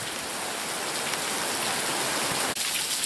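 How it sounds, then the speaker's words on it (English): Heavy rain pours down steadily outside a porch, a dense, loud hiss that fills the whole stretch without a break. "Wow, look at that rain coming down. Heavy, heavy rain."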